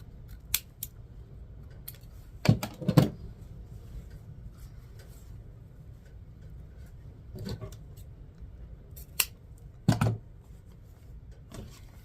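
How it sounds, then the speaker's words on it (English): Scissors snip satiny ribbon at an angle for a mesh wreath, a few sharp close crunching cuts spaced several seconds apart against a quiet room hum. "I'm just going to cut it at an angle"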